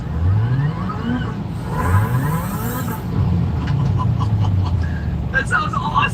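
A supercharged four-cylinder car engine with a slipping clutch revs up and down in a few rising sweeps, heard from inside the car with someone talking over it.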